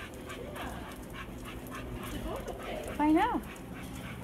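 Dog on a walk, soft panting with a brief high whimper near the end, faint beneath quiet nearby talk.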